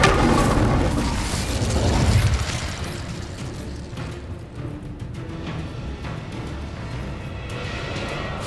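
An Incendio fire spell cast in Hogwarts Legacy, starting with a loud booming whoosh of flame and settling into a steady roaring, crackling burn.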